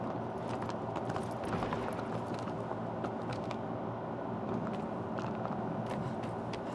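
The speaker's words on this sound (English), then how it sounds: "Our trusted steed should be popping up any minute now." A horse's hooves pounding in the Shadow of the Colossus video game, a rapid, continuous clip-clop of galloping over a constant rumbling background, with no voice.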